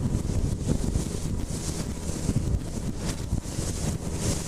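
A 4.5-metre boat with a 20 hp outboard motor speeds through rough sea waves in strong wind, with loud continuous wind buffeting and engine roar mixed with hull slaps and spray throughout, no talk.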